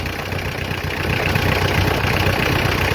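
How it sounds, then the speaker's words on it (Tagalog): A car engine idles steadily as the AC compressor clutch engages, a continuous low rumble that grows slightly louder and rougher partway through, with no talking. "Now watch the clutch engage and observe the engine idle go down"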